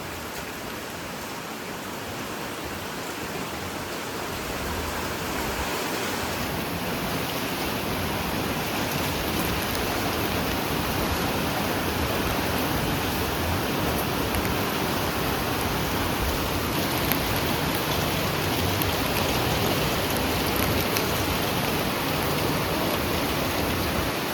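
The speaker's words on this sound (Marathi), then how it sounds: "खतरनाक पाऊस आहे मित्रांनो, खतरनाक, खूप खतरनाक." Heavy rain pouring down in Talegaon, a dense, steady hiss of rainfall on surfaces that swells slightly after the first few seconds and continues without a break, with no voices.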